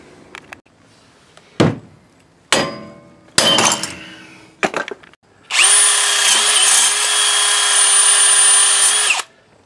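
Bearing puller pushing a seized wheel bearing out of the hub on a Jeep Grand Cherokee, with bolts run through from the back: several sharp metallic clanks and bangs, then a loud, steady, high-pitched power-tool whine lasting about four seconds, close up.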